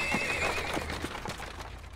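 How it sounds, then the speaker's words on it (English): During a horse and buggy ride in a Clarence cartoon, a horse gives a loud whinny at the start, then its hooves clip-clop faintly as the sound fades. "the horse and buggy ride"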